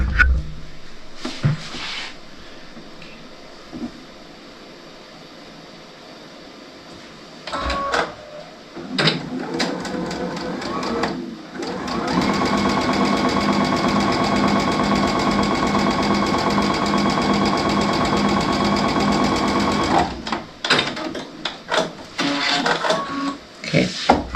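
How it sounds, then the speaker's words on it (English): A sewing machine stitching background fabric for a quilt, corner to corner, in a rapid steady mechanical whir that runs for several seconds, with short bursts and clicks before and after it, close and fairly loud. "We're sewing on the piece of background fabric, corner to corner."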